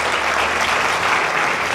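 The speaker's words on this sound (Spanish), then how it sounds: "Denle ese aplauso fuerte." A church congregation applauds loudly during a faith class, a steady dense wash of many hands clapping with no break.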